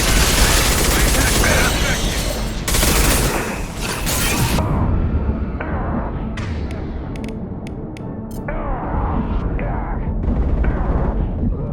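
Heavy weapons fire slams into a Collector vessel in the Mass Effect 2 video game: a loud, dense barrage of booming impacts and rapid bursts that thins into scattered sharp hits, with game voices and music underneath.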